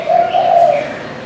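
A spotted dove coos once, close and clear, a soft low hollow call lasting just over a second with nothing else heard.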